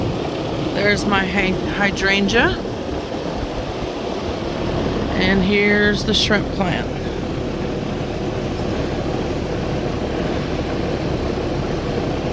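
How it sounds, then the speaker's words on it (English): A loud outdoor air conditioner unit drones with a constant fan roar throughout, while a person speaks briefly over it. "And as usual, we're by the air conditioner."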